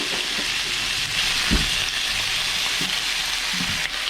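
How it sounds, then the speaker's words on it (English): Steak and vegetables for burrito bowls sizzle loudly in a pan close to the mic. The frying hiss is steady, with a few soft clinks of stirring and no talk. "I'll let you guys watch it quicker instead of listening to all this sizzling happen"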